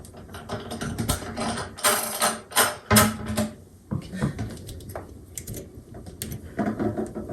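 A two-part plastic nut is threaded onto a toilet bowl bolt during installation of a Glacier Bay dual-flush toilet, producing close, irregular clicks, scrapes and ratcheting rattles with brief pauses between bursts.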